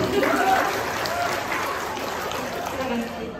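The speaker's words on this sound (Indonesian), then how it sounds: "Tepuk tangan buat semuanya" An audience at a parenting talk show about schools claps. The applause is continuous and moderately loud across the whole stretch and fades slightly near the end.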